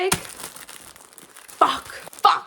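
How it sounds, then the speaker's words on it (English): Packages of tattoo cleaning materials being opened, with close crinkling and tearing of plastic wrap, two sharper rips near the end. "These are cleaning materials, and I'll open these now and show you guys what they look like."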